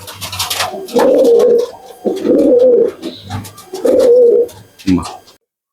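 Old-generation Madrasi pigeons coo close by in a loft, giving several distinct throaty coo phrases in an uneven rhythm with short pauses between them.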